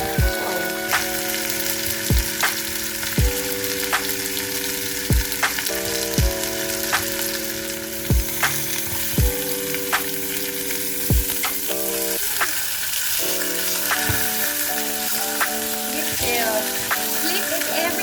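Lamb chops with spices and herbs sizzling in a pan under a steady crackle, with regular sharp clicks from turning and stirring and a tonal layered background hum running throughout.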